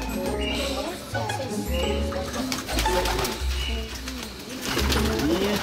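Racing homing pigeons coo in a transport box, their low repeated coos close by, with a voice speaking over them.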